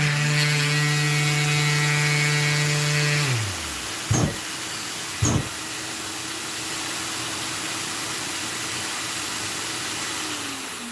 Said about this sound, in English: So listen to my vacuum.